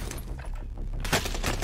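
Gunfire in the Call of Duty Warzone video game: a dense burst of rapid shots followed by a brief lull, then another sharp loud volley, close and harsh with no talk over it.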